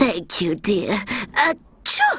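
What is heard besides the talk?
sneeze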